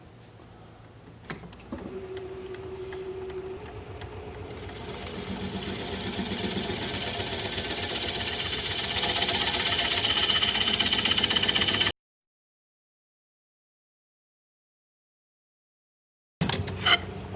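A wood lathe spins a wet live edge winged bowl with a steady humming whir that gradually grows louder, then cuts to silence before a brief return of sound at the end.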